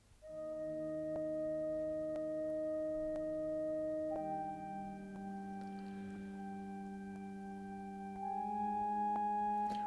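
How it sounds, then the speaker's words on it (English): A sampled church organ, the Kontakt library patch Organ KH Floten 1, holds sustained flute-stop chords that shift twice, ringing smoothly and alone at moderate volume. "Well, definitely managed to find an organ in the Contact Factory library."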